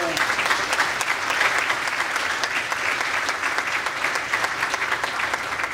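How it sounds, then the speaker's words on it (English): A crowd applauds at a dedication ceremony for a veterans outpatient clinic, steady dense clapping throughout, loud and close, with faint talk underneath. "let's give him another round of applause"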